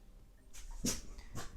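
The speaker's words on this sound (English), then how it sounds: "My dog heard something outside." A dog whimpers softly in a quiet room, a few faint, breathy whines spaced apart, close by with no talk.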